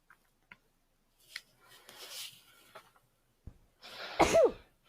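A single sharp sneeze rings out close and fairly loud at the end of a quiet stretch with faint rustling and small clicks.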